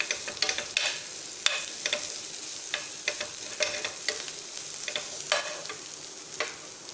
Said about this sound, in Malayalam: എന്നിട്ടൊന്ന് മിക്സ് ചെയ്യാം.